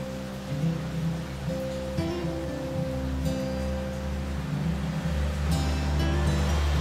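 Palong Khiyang waterfall at Alikadam, a soft, continuous rush of falling water heard from nearby. Low hums and brief clatters sit under it, with no talk.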